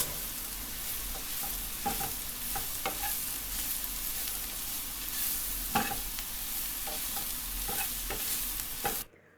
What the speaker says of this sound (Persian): حالا قسمت گوشتی بادمجون رو که خورد کرده بودم اضافه میکنم و